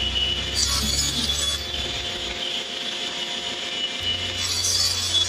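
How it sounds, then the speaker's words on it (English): Wooden edges are trimmed for a child's table with a power saw, giving a close, steady whirring cut with a low motor hum that drops away midway and returns near the end. "I trimmed all the remaining edges parallel to the jointed edge"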